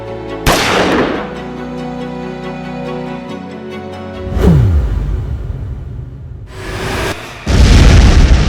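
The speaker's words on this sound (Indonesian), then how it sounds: "Gedung amunisi Belanda meledak." An ammunition depot explodes in a series of loud booming blasts, one sharp blast followed by another and a final heavy roar, with rumbling decay between them.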